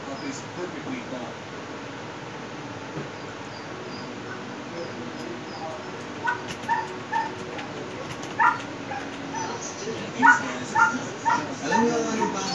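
A puppy gives faint, high whimpers and short yips, growing more frequent and a little louder toward the end, over a low background hum with voices in the clip.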